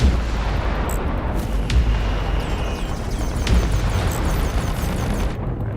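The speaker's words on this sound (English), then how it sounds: "Missiles." Missiles fire and explode in the space-combat video game Fractured Space, a dense roar of booms and blasts under a constant rumbling engine bed, loud and continuous.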